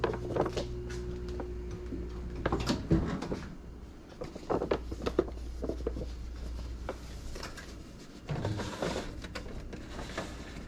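An oven door in a home kitchen shuts with a firm clunk amid scattered knocks and rattles of cookware, with a low hum underneath.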